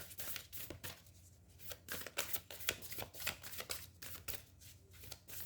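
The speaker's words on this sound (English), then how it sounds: "let me pull out one more card for you." Tarot cards being shuffled by hand, a quick run of crisp riffling flutters and soft slaps repeating in an uneven rhythm, close and quiet with no talking.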